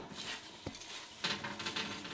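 Fried onions tossed in a hot pan, giving a soft close sizzle with a few scraping stirs and a light clank against the pan, quiet and brief with no talking.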